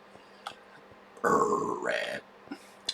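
One loud, drawn-out burp during a Minecraft play session, rough and croaky for under a second, standing alone between faint clicks and quiet background.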